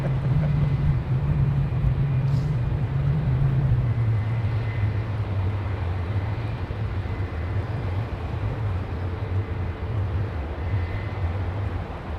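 An airliner departs from runway 09, a loud continuous jet engine roar with a deep rumble that holds steady and then eases slightly, heard from outside near the airport.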